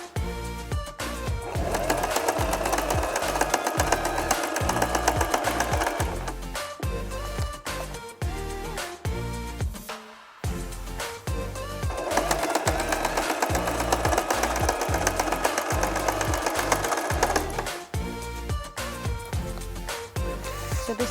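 Sewing machine stitching the folded edge of a fabric organizer pocket, a steady loud mechanical whir running continuously in two long bursts with a brief pause between, no talking.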